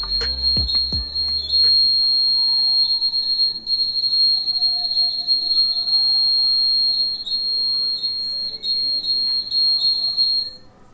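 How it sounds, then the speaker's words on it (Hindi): Buzzer of a homemade laser door-security alarm built with an LDR sensor, sounding a steady high-pitched electronic tone that repeatedly cuts out and restarts in short bursts, loud and close, with a brief knock near the start. "तो जो बजर है वो बजने लग जाता है।"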